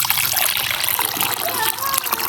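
Water splashes and trickles into a pot during rustic Isan-style outdoor cooking, a close, continuous pour with a voice talking over it.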